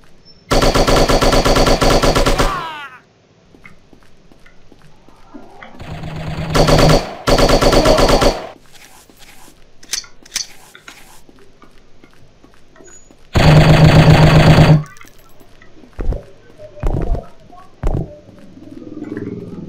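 Loud bursts of rapid automatic gunfire from the shooting video game Striker, long sustained volleys separated by quieter stretches with scattered single shots and game effects.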